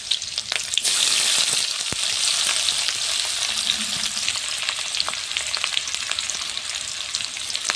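Green chillies and onion hit hot oil in a pan, a sudden loud sizzle that settles into a steady, bright frying hiss with occasional crackles, heard close and without voices.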